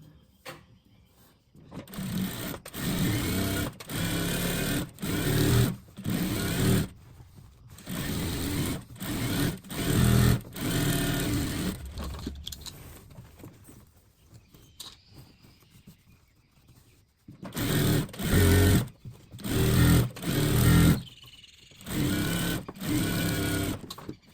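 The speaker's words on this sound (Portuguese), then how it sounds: "Aí eu vou costuro bem aqui na frestazinha, que aí quase não se vê a costura." Sewing machine stitching a patchwork quilt seam in the gap between fabric pieces with a very small stitch, running in close, loud bursts of rapid mechanical whirring separated by short pauses, with a longer quiet stretch midway.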